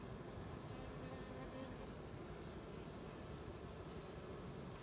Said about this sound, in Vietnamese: Còn bên này là cái số ong vừa mới tách từ đàn gốc ra đây.